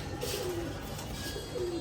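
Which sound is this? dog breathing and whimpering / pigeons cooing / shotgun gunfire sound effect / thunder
pigeons cooing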